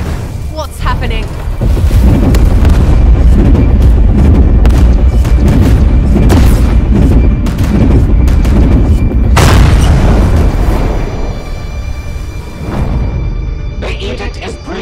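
Heavy cannon fire in a Warhammer 40K battle film, a series of loud booming blasts and rumbling impacts over several seconds, with brief sharp bursts and dense battle noise between them.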